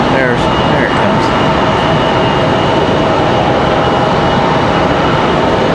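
A Republic Airways jet passes at Raleigh Durham airport with a loud, continuous engine roar, close and sustained, while a faint rising whine sounds near the start.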